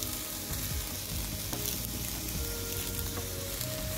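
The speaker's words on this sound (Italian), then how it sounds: "Sentite il rumorino che soffrigge?" Sliced radicchio frying in a hot pan, with a steady, close sizzle and faint crackle throughout and no talk.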